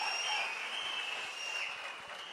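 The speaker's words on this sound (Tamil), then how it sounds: "ஒரு அரங்கம் நிறைந்த கைத்தட்டல் அண்ணனுக்கும் மாவட்ட செயலாளர்களும்." Applause fills a hall at a Tamil Nadu political party's third anniversary function, a steady, dense wash of clapping heard from a distance, with no speech over it.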